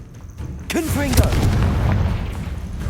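A deep, booming blast from the Confringo fire spell in Hogwarts Legacy rolls out right after a shouted incantation, swelling into a sustained rumble that fades slowly over the next couple of seconds.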